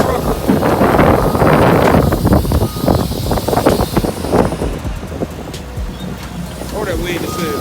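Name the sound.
wind blowing into the microphone outdoors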